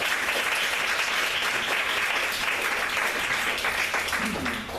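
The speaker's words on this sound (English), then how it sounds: "One more round of applause for Darren." An indoor audience gives a speaker a sustained round of applause, dense clapping that stays even and full for several seconds before easing slightly at the end.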